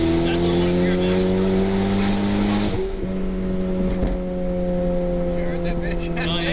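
A turbocharged Honda Civic R18 accelerates loudly, its engine note climbing steadily under throttle with a brief dip as it shifts, heard close from inside the car.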